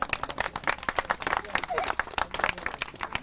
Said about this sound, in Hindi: चलो बजाओ ताली